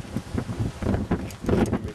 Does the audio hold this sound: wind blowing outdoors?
yes